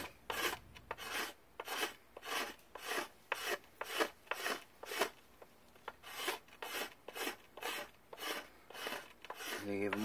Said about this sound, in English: And then I'll take my knife, use it as a scraper. Scrape that away.